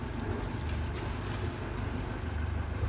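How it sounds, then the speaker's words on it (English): The engine of a sailboat about to leave Martinique for Bonaire, running as a steady low drone with soft water and wind noise behind it, and no voices. "Susan fired up the engine."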